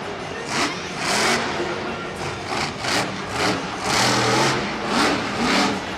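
A monster truck engine with zoomie exhaust pipes revs in repeated surges, its loud raspy exhaust rising and falling with each throttle blip, heard from some distance in a stadium.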